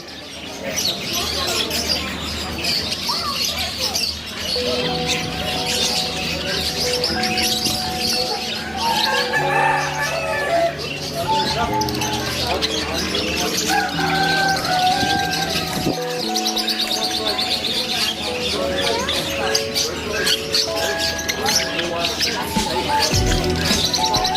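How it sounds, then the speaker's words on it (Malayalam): A dense, continuous chorus of many birds of different types, including parrots, chirping and calling close by, with overlapping tweets and coos and a steady background hum. "ബേർഡ്സ്."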